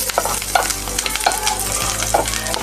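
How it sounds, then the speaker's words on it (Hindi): Green chillies fry lightly in a small amount of oil, giving a steady sizzle broken by several sharp stirring scrapes of a utensil in the pan, close up and with no talking. "हम इसको हल्के हल्के फ्राई करते हैं, ज़्यादा ऑयल नहीं डालेंगे"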